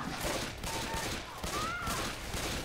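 Gunfire in Left 4 Dead 2 crackles as a dense, steady fusillade of game shots with a mid-loud rolling texture, holding throughout under a busy in-game background.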